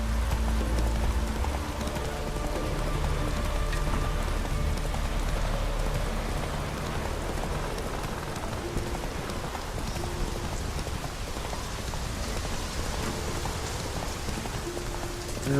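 In The Witcher 3, the horse Roach trots through steady rain, hooves clip-clopping in an even rhythm under a constant hiss of falling drops, with wind and a low game background hum.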